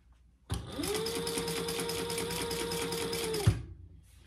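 A sewing machine stitches piping onto a fabric bag in one continuous three-second run with a steady whirring motor and a rapid needle rhythm. It starts abruptly and ends with a clunk as the machine stops.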